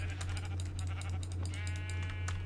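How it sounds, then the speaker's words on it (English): Sheep bleat repeatedly in Minecraft, with several overlapping wavering cries, one drawn-out bleat near the end over a steady low background hum, at moderate loudness with no talking. "so I'll just auto-attack these sheep for 4 hours"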